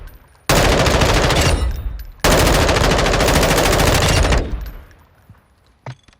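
F-Tac Ripper gunfire in Call of Duty Warzone, two long, loud bursts of rapid automatic fire, each cut off abruptly, then a quieter tail and one faint single shot near the end.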